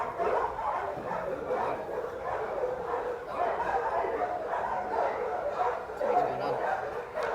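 A puppy yips, whimpers and barks in a dense, continuous mix of excited dog sounds during a training session, with other dogs around and people talking at the same time.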